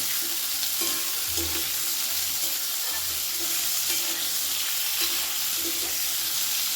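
Vegetables and spices for shukto, salted and stirred in a pan, give off a constant, even sizzle with faint low scraping strokes beneath it, close and unbroken.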